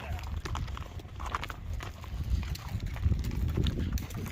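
Several horses on a guided trail ride walk over ground with a steady, fairly loud clip-clop of hooves mixed with rumbling outdoor noise, while people talk quietly in the background.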